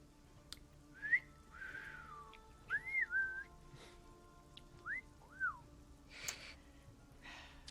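A person whistles several short rising and falling notes, a few separate phrases in a quiet setting with faint background noise and a few soft clicks.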